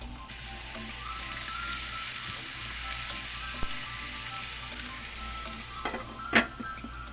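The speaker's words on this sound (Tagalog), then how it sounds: "Heat the griller and grill the tuna panga for 10 minutes on one side." Tuna jaw (panga) sizzles on a hot grill, a constant crackling hiss near and steady, broken late by a couple of sharp pops or taps.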